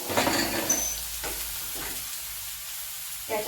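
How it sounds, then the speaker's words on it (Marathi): Onion sautés in a pan with salt, a soft sizzle broken by a few short bursts of stirring. "कांदा पटकन भाजावून आपण हे मीठ घालत आहोत"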